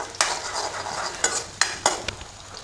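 Finely chopped onions frying in a pan hiss steadily while a spoon scrapes and clinks against the metal in four or five distinct stirring strokes, heard up close.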